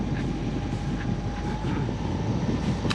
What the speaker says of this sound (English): engine's back on